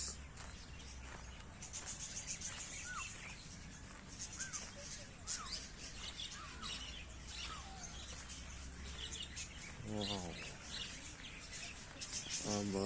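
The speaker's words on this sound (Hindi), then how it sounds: "चिड़ियों की आवाज़ आ रही है।" Small birds chirp in scattered short calls at a bird park in Chandigarh, layered over a busy murmur of visitors and people talking, with a louder burst of voices near the end.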